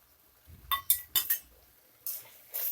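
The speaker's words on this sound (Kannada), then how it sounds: "ಈಗ ದ್ರಾಕ್ಷಿ ಗೋಡಂಬಿ ಮತ್ತು ಬಾದಾಮಿ ಹಾಕ್ಕೊಳ್ಳಿ" Fried raisins, cashews and almonds dropped into carrot halwa, giving a few quick close clinks and taps of a spoon against a metal pan in short bursts, with no talking.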